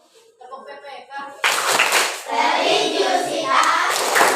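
A class claps a rhythmic chant, starting with a few sung voices before loud, crowded hand clapping bursts in and carries on alongside children's chanting.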